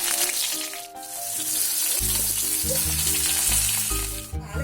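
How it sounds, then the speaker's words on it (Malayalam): Mustard seeds and curry leaves hit hot oil in a pan, giving a loud, dense crackling sizzle close by that swells and holds steady, while music plays in the background and nobody speaks. "എണ്ണ ചൂടായിട്ടുണ്ട്, നമുക്ക് കടുകിടാം. ഇനി നമുക്ക് വേപ്പില ഇട്ടിട്ടുണ്ട്."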